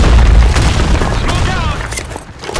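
A grenade blast in the online shooter Blackshot booms loud at the start and fades into rumbling gunfire, with player voices shouting over the noise.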